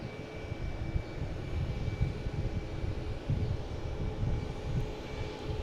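A Southwest Boeing 737-800 airliner arriving on its approach from Austin, heard as a steady, broadband engine roar that holds fairly constant throughout with a low rumble underneath.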